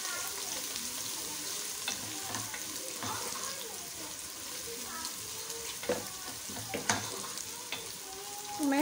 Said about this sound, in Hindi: मैं इसके अंदर 1 टेबल स्पून जितना डाल रही हूँ जिंजर और गार्लिक का पेस्ट, और बस मैं इसको सौते कर रही हूँ